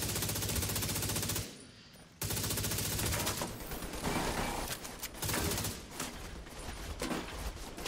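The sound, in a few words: minigun firing in a video game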